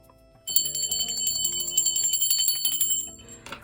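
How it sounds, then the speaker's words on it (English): A spiritual ritual bell is rung repeatedly in a room, producing bright, sustained metallic ringing that starts abruptly, continues with rapid strikes for a few seconds, then fades out. "I'm going to ring the bell for my spirit guides, guardian angels, and ancestors."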